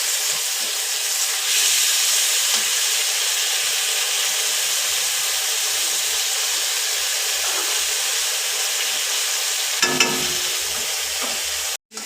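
Shrimp frying in hot oil in a pan for a pointed-gourd curry gives a steady, bright, hissing sizzle that stays loud and even throughout, with a few clinks of a utensil stirring near the end.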